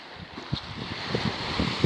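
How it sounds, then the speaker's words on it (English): Sea surf on the edge of the coast rolls in a low, broad wash under gusty wind noise buffeting the microphone, with soft rumbling surges throughout. "As you can hear the sea."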